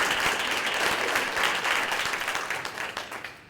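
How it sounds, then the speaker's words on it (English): An audience in a school district meeting applauds steadily and fairly loud for about three seconds, the clapping thinning and fading toward the end. "How about a big round of applause for Mike?"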